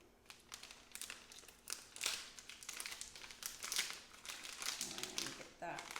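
Close, crinkly rustling and crumpling as a seasoning packet is torn open by hand without scissors, irregular crackles of plastic film lasting several seconds.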